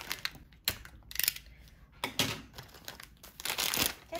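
A plastic package holding a pale purple static duster is torn and crinkled open by hand, with close, irregular rustling, crackling and ripping bursts and no talking.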